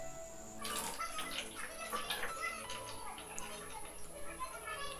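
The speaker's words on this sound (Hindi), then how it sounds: "चलिए यहाँ पर पानी भर लेते हैं और कूलर को टेस्ट करके देखते हैं।" Water pours and splashes into a homemade cooler at home, a steady broadband gushing that starts after a brief quiet moment and runs continuously, close and moderately loud.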